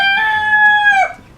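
A rooster kept in a town backyard lets out one clear, loud, close crow, a sustained ringing call lasting about a second before trailing off abruptly.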